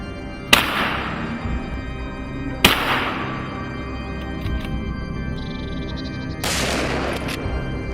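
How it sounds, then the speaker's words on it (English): Three sharp gunshots ring out during a wild boar hunt in snow, each a loud crack with a decaying echo, spaced unevenly a couple of seconds apart. "The gunshots rang out."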